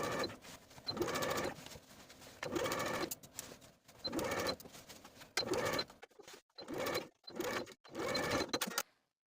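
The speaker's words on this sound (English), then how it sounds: "I'll sew as pinned with a 3/8 inch seam allowance, backstitching at both seams to secure." A sewing machine stitches a lining seam with a 3/8 inch seam allowance, running in repeated bursts of rapid mechanical chatter separated by short pauses, close and clear with no talking.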